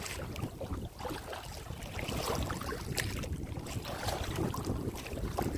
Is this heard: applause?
no